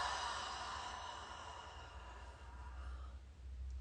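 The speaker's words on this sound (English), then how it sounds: "Exhale, let it go." Slow, soft exhale during a guided breathing exercise, a faint steady breathy sigh that trails off over a few seconds, close and quiet with no talk.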